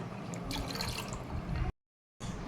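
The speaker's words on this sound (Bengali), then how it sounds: "এবারে আমি আদা আর পুদিনা পাতার যে রসটা ছেঁকে নিলাম এটা ঢেলে দিলাম।" Strained ginger and mint juice poured over ice cubes for a summer sherbet, a steady close splashing trickle that cuts off abruptly and then resumes briefly.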